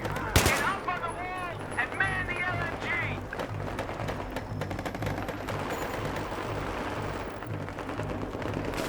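Gunfire in the video game Battlefield 3, with rapid bursts and scattered shots over a constant rumble of battle noise, while a voice talks over part of it.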